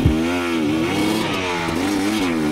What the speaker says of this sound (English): You can hear the revving the bike up, trying to push it up the hill.